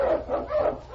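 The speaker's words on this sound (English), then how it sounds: "On King, on you malamutes" Malamute sled dogs on a snowy Yukon trail bark and yip in a few close, rhythmic bursts, loud and alone without speech.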